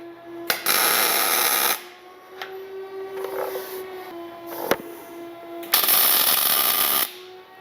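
Two loud bursts of welding buzz from tacking a weld-on trailing arm onto a 4x4 axle, each lasting about a second with a sharp crackle in between, close and alone.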